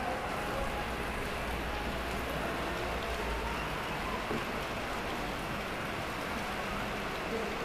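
Steady, heavy rain pours continuously and evenly across the whole stretch, a dense hiss with no pauses, and no voices stand out above it.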